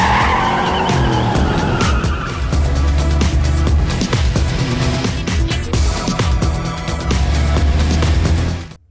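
Race cars in a film race skid hard with sustained screeching tires over roaring engines, loud and continuous, the squeal rising and falling before cutting off abruptly.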